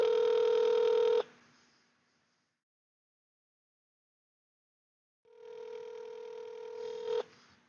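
An outgoing telephone call rings back twice, each a steady electronic ring tone lasting about a second or two and separated by a long silence, heard fairly close and alone.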